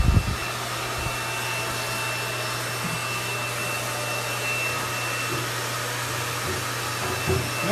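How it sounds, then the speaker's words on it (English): Hair dryer blowing hair during a salon training event, a steady, even whoosh with a low hum that runs throughout at close range, with brief handling bumps at the start and end. "Notice when we blow dry,"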